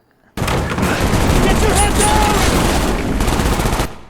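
Loud, continuous automatic gunfire fills the Hong Kong mission of Call of Duty: Black Ops. It starts abruptly after a brief quiet moment, sounds close, rattles without a break for about three and a half seconds, then stops, with voices mixed in.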